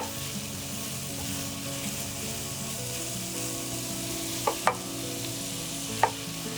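Red pepper, onion and garlic sauté in a pot with an even, moderately quiet sizzle, joined late by a few sharp clicks of a utensil against the pot.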